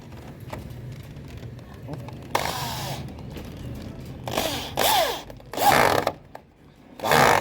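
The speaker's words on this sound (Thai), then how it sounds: "ต่อไปก็จะใช้สกรูสำหรับ ทำการยึดติดกับเนื้อไม้นะครับ" Screws driven into timber on a house roof during a corrugated double-roll roof tile renovation, heard as several short bursts of a power driver whining and rising in pitch, separated by quieter gaps with background noise.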